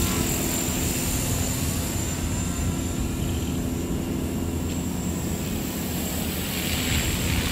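A Walkera V400D02 six-channel flybarless RC helicopter flies outdoors on a breezy day, its rotor and motor giving a loud, continuous whirring drone mixed with wind noise throughout, with no talking.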